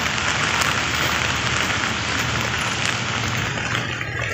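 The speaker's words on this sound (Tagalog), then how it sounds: "kasi umuulan" Steady rain pours down in Hong Kong, a dense constant hiss of drops hitting a surface, close and fairly loud with no voices.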